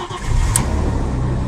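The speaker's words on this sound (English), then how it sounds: "Let's start the engine." Audi A6 C5 or VW engine starting after a comfort control module replacement: a short cranking burst that catches and settles into a steady idle, near and fairly loud.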